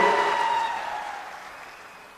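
Applause from a political rally audience in Phaltan, a dense burst of clapping that starts loud and gradually fades over a couple of seconds, with no talk.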